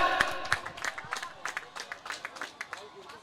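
Spectators clap at an outdoor pre-school cricket trophy match, a loose scattering of hand claps with light crowd murmur rising and falling in the background, moderately distant and fairly faint.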